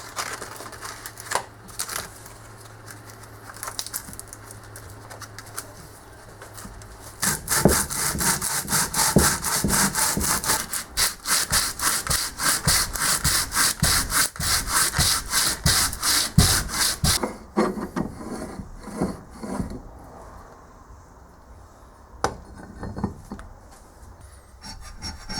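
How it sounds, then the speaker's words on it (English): Rough, rhythmic rasping of 80 grit sandpaper being worked back and forth over a cast iron lathe carriage bed, faint scraping at first, then a loud sustained run of strokes before it eases off. "This is some 80 grit sandpaper."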